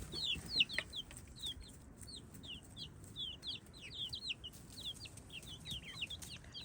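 A flock of chickens clucks near a group of newly introduced chicks, with short, high peeping calls repeating in quick irregular bursts over a quiet farmyard background. No talk is heard.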